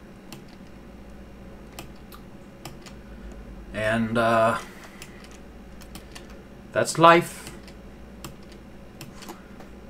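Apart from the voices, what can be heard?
mechanical keyboard typing clatter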